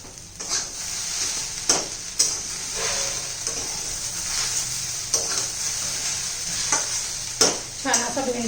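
Okra with dry grated coconut sizzles in a pan while a spatula stirs it, giving a continuous close hiss with sharp scraping strokes every second or so.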